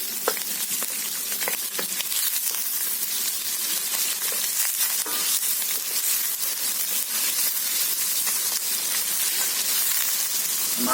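Red onions sizzle and fry in a pan in a steady, loud, continuous hiss with light crackling throughout.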